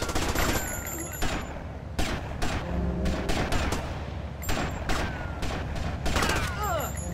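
Rapid bursts of gunfire from the Grand Theft Auto: Vice City video game, repeated volleys of shots across a busy, loud combat mix with game voices and effects underneath.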